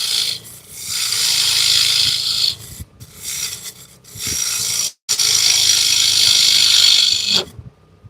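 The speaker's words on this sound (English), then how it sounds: "I like using my skew to straighten the inside of the bowl on the walls." A skew chisel shears along the inside wall of a walnut bowl spinning on a lathe, giving a close, loud rasping hiss in repeated passes with brief pauses between cuts.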